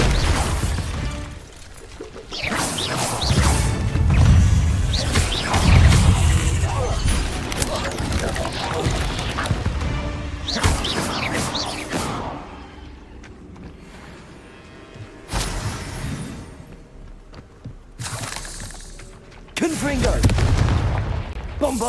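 Explosion spells cast in the game Hogwarts Legacy, Bombarda among them, land as repeated heavy booms and crashing bursts with debris. Between blasts, a voice shouts spell names and talks over the action.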